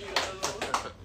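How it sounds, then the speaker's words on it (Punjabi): An audience claps at a live singing performance, with a few distinct claps in a loose rhythm mixed with voices. "ਖੁਸ਼ ਜੇ ਤਾੜੀਆਂ ਮਾਰੋ ਸੇਠ ਜੀ ਉਹ ਜਵਾਕੋ ਤਾੜੀਆਂ"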